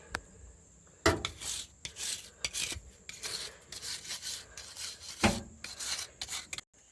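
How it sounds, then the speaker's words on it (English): Wire brush scrubbing bolt heads on an NP435 transmission, a dry raspy scratching in irregular bursts of strokes, close and fairly quiet, with brief pauses between passes. "I'm just going through and cleaning these bolt heads up with this wire brush"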